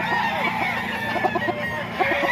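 Chickens at a Bocaue poultry market, clucking in short bursts with a faint crow-like call, close by and steady over a busy background hum.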